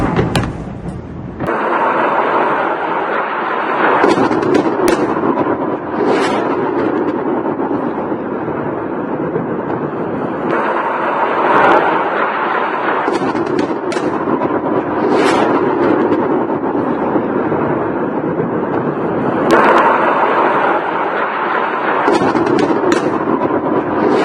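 Bombs go off in a series along bridges in Lebanon during a war, repeated loud, booming blasts that recur every few seconds over a continuous rumbling roar, with no voices.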